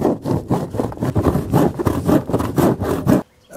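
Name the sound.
cutting a roofing tile sheet with a blade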